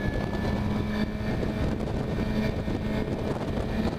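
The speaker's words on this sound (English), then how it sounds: "this thing sounds amazing on full throttle." A 2015 Suzuki GSX-R750 motorcycle at full throttle in third gear makes a loud, steady engine roar under heavy wind buffeting. The sound holds fairly even, with no talk.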